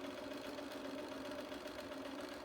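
A sewing machine stitching elastic into a seam, running in a continuous, even mechanical hum with a faint rapid needle rattle, quiet and close, without talk.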